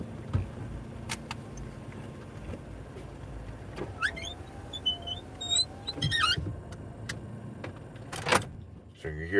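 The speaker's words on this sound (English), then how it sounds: "So you hear the car go doot doot" Car doors locking from the driver's seat after the windows are rolled up, the car giving short electronic lock chirps midway and again near the end over a steady idle-like hum.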